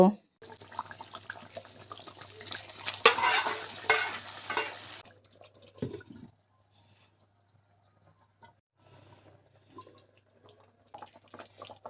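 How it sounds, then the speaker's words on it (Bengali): Hot onion tempering poured into a pot of beef trotter (paya) curry, giving a loud hissing sizzle for a few seconds that quickly dies down to quiet cooking sounds. "পেঁয়াজ কুচি বাগারটা রেডি করে নিয়ে এসেছি এখন ফায়ে দিয়ে দেব"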